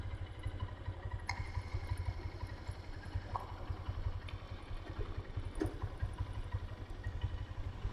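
Motorcycle engine running in first gear on a gravel road in the Bandarban hills, a steady low throbbing hum throughout with occasional clicks and clatter, fairly quiet and close.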